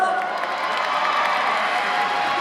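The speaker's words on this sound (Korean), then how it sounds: "다시 한 번 뜨거운 박수 부탁드리겠습니다" A concert crowd at a celebration performance keeps up a steady roar of cheering and clapping, dense and continuous with high shouts mixed in and no pause.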